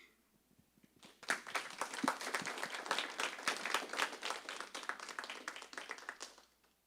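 A room of people applauds at a school board of education meeting, a dense burst of clapping that starts abruptly, holds steady for several seconds, then tapers off.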